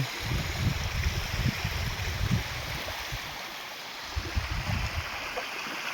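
Water from a small stream runs steadily close by, a continuous broadband rushing with low gurgling pulses and no pauses over the full stretch.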